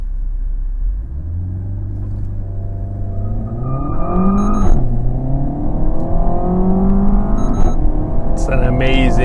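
A Renault Megane RS engine pulls hard through an acceleration test, rising in pitch through the gears with short shift breaks, loud and close over a steady road rumble.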